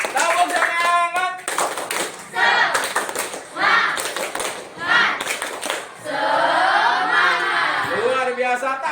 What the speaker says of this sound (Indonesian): Oke, tepuk tangan buat diskusi hari ini.